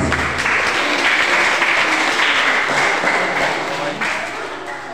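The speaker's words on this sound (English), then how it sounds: "A round of applause, please" A graduation audience in a church hall applauds as a minister is welcomed, a loud, steady wash of many hands clapping that holds for several seconds and eases slightly toward the end.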